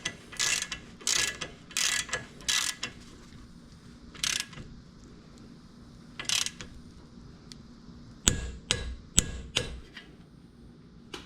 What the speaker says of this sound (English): now we're going to tighten and torque these down